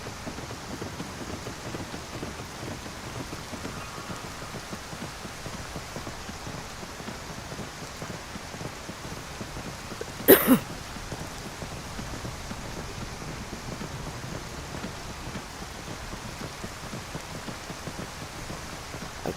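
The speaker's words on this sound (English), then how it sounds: "in the middle of a storm" Steady rain during a winter storm in the video game Skyrim VR, a continuous even hiss of falling rain throughout, broken once midway by a single brief sharp crack, with no voices.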